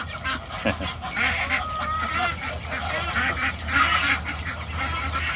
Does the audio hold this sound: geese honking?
yes